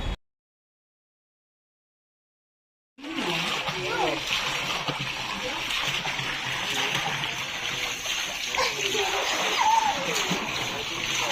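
Water splashing in a resort swimming pool on Mousumi Island, a continuous busy slosh and splatter that starts after a few seconds of silence, with voices faintly mixed in.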